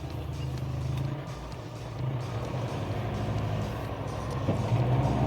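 A JAC T8 1.9 TDI 4x4 pickup bogged down with its wheels slipping: a steady, loud engine drone with churning low rumble that holds throughout and builds slightly toward the end.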